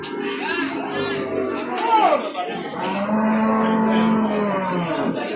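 Several cattle moo in long, low calls close by at a cattle market in Babat, Lamongan, East Java, one drawn-out bellow standing out, over a busy background of crowd chatter.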